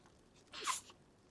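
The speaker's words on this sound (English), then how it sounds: "Bless you, Alice." A single short sneeze from a character in the video game Detroit: Become Human, one quick, moderately loud burst over a quiet background.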